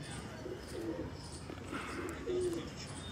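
Pigeons coo softly nearby, a few low throaty murmurs rising and falling over a steady faint background.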